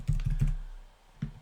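Computer keyboard keys tapped while entering a name and email address into a web form: three quick, close clicks, a pause, then one more.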